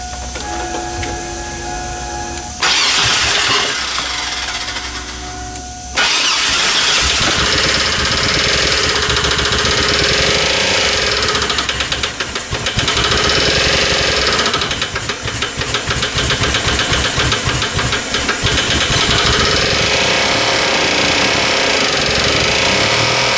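A worn 4.3 V6 engine in an S10 Blazer turns over and catches, then runs rough and loud with a steady rod-knocking clatter throughout.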